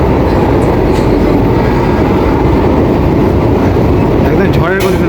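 Sealdah-Ranaghat AC EMU local train running at high speed in West Bengal, a loud, continuous rumble and rushing roar throughout, with a brief squeal near the end.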